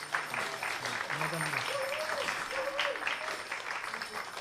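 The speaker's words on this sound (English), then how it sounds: "Big clapping for Manish." Sustained audience clapping at a Hindu devotional morning program, dense and steady throughout, with a voice faintly heard over it.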